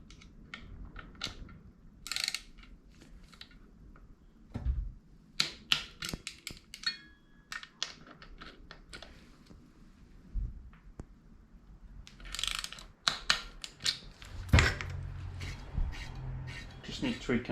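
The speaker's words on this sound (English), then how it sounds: "Torque wrench time. So it says 6 to 8 Newton meters for these little caliper returning bolts." A torque wrench ratcheting as it tightens small caliper bolts on a Merlin G2X bike build, sounding as scattered clicks and mechanical clatter in short bursts, with occasional speech between them.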